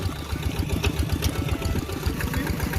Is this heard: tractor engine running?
yes